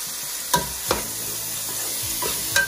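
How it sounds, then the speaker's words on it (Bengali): Soaked red lentils hitting a pan of frying garlic and onion, a gentle sizzle broken by a few sharp stirring knocks, with no talking. "রসুন আর পেঁয়াজ একটু ফ্রাই হয়ে যাওয়ার পরে আমি आधा घंटा आगे থেকে ভেজানো মসুরের ডাল এক কাপ দিয়ে দিচ্ছি।"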